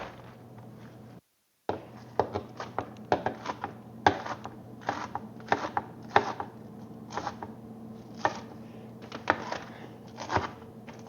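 Romaine lettuce chopped with a knife on a cutting board, a series of crisp, close knocks in an uneven rhythm against a quiet background hum, with no talking.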